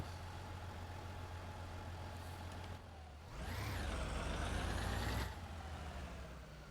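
Fire truck engine idling steadily in a video game, then revving up with a rising whine before a hiss of air brakes releasing, close and continuous.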